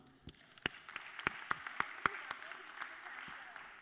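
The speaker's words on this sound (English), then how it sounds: "Round of applause." A few faint, scattered hand claps from a small audience, sparse and uneven, fading out quickly at low volume.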